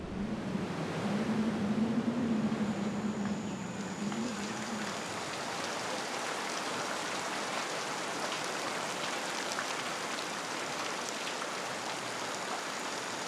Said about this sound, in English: The storms that batter the rainforest are powerful but generous.